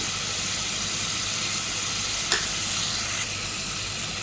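Prawn keema balls curry with turmeric and mixed spices sizzling in a pan while being stirred, a continuous close frying hiss with one brief utensil clink midway and no speech.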